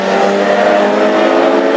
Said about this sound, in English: Thomas Dilley has reeled him in just a little bit, but still good breathing space as Dilley now swoops on the inside of the Scotsman in car 12